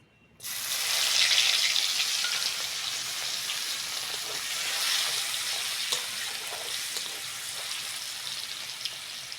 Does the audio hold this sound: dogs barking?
no